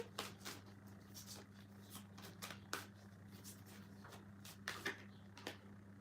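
A deck of oracle cards being shuffled close by, with quiet irregular riffles and snaps over a low hum.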